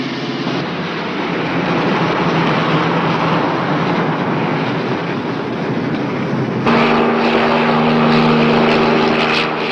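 A helicopter drones steadily overhead in a police highway patrol scene, a continuous engine and rotor noise that changes tone partway through, with no talk.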